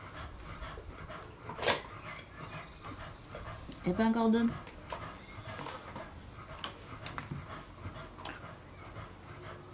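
A dog pants heavily and steadily throughout, with a brief high whimper midway, close by, while people talk over it.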